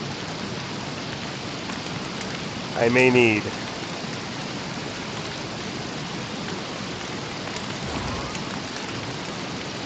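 Rain pours steadily in the Don't Starve video game, a dense constant hiss of falling drops, while a voice briefly speaks over it.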